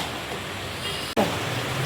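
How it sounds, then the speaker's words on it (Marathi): Hot water pours into a pan of Agri-style stuffed crab masala, giving a steady rushing hiss that cuts out for an instant and then picks up again, with no voices. "पाणी गरम टाकत आहे"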